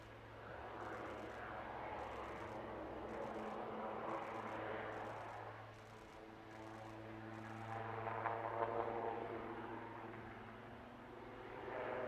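A fixed-wing airplane climbs to around 700 feet during a display at the Bournemouth Air Festival, its engine producing a steady, moderately distant drone that swells and fades slightly over about twelve seconds, with no talking.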